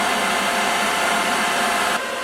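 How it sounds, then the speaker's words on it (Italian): A hair dryer runs inside a camper van, a loud steady whooshing roar that drops slightly in level near the end; no voices. "Ok, stress test del phon superato."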